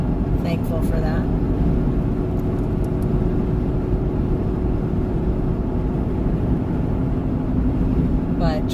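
A pickup truck's engine hums steadily while driving on the road, a constant low drone mixed with road rumble that runs unbroken throughout, with a person speaking over it.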